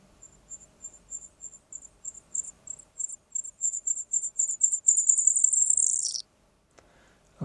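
A bat's hunting sequence, several recorded tracks layered together, gives a train of high, sharp chirps that speeds up into a rapid continuous buzz, then cuts off abruptly, with a lone click near the close.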